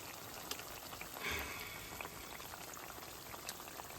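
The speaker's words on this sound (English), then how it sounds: "I'm pan frying because they was too big to fit in my pot" Steady sizzling and crackling of apple pies pan frying, with a brief louder hiss partway through and scattered pops throughout.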